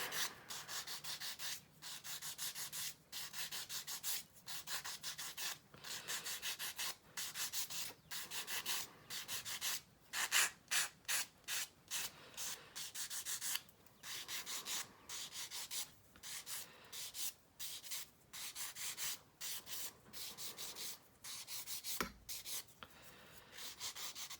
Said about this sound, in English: my sanding stick, clean up that edge.